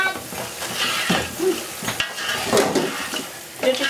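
A rice mixture frying in a pan and being stirred, a continuous close sizzle with scraping strokes and occasional utensil clinks against the pan, no talk.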